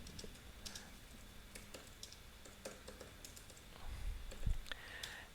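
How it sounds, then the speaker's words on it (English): Quiet, irregular clicks of typing on a computer keyboard while a poll is entered for a Twitch stream, soft and close with no talk. "You start typing in a poll like this."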